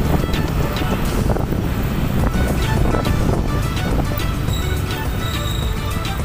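Ocean surf on Kuta beach, Bali, heard as a steady, loud wash of waves with strong wind noise buffeting the microphone throughout, no voices.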